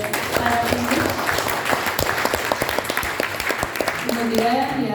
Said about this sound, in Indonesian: Kita beri tepuk tangan buat para pemimpin.